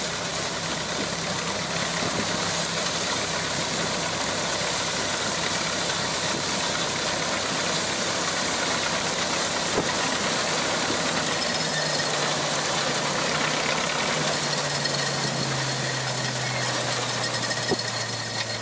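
Hundred-year-old harvester engine running, a steady mechanical drone with an even idling rhythm that settles lower near the end, heard alone.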